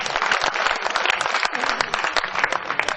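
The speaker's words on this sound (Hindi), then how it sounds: "एक बार तालियां बजाकर मुझे आदेश दें कि आप बजाइए।" Dense, steady applause from the audience at a Hindi poetry recital (kavi sammelan) in Ujjain fills the whole stretch, loud and continuous with no talking over it.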